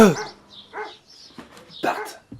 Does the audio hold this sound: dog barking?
yes